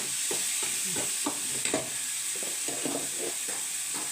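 Tomatoes fry in plenty of oil while being stirred, a soft continuous sizzle broken by repeated scraping strokes of the spoon at a steady rhythm, fairly quiet and close, with no talk.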